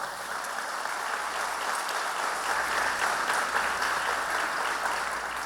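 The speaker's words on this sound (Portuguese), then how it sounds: "Aplauda ao Senhor por sua palavra." A church congregation applauds together, a sustained, even roar of many hands clapping at close range.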